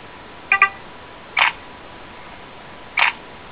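A Nexus S phone camera in burst mode fires off short electronic shutter clicks: a quick double click, then two more single clicks spaced apart, close and clear over a quiet background.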